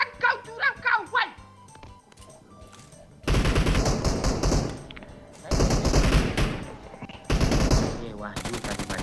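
Video game gunfire comes in loud, dense bursts separated by quieter gaps, with blasts of a shotgun among the shooting; excited voices talk before and between the volleys.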